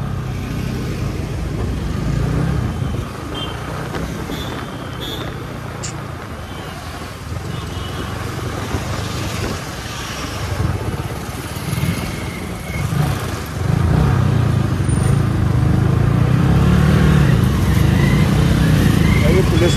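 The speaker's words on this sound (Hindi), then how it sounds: "ऐसा लग रहा ओरिजिनल बाइक का साउंड है और हम चला रहे हैं गाड़ी" A motorcycle fitted with an exhaust muffler is ridden along a road, its engine a steady low rumble mixed with wind noise, and a rider talks over it throughout.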